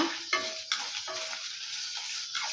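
Small shallots with salt sautéing in a pan, a soft continuous sizzle broken by a few spoon clinks and stirring scrapes near the start.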